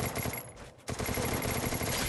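Rapid automatic gunfire from the Garena Free Fire video game rattles in dense, loud bursts, broken by a brief lull before the volley resumes.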